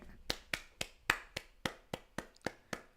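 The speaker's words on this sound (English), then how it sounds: "I literally cannot stop clapping." Hand clapping in a steady, even rhythm, about eleven sharp claps close by, alone with no other sound between them.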